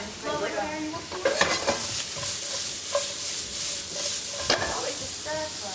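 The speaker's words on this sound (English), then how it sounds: "it's a stir fry" A stir fry sizzles loudly in a hot pan, with continuous frying hiss and repeated stirring scrapes and clatters of the utensil close up, no voices over it.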